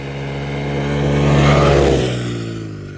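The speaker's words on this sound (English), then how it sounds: "I hear him coming. Here it comes. Yamaha TTR 110 snow bike" A Yamaha TTR 110 snow bike's small single-cylinder engine approaches and passes close by, its buzzing note rising to a peak near the middle, then dropping in pitch and fading as it pulls away, barely into third gear.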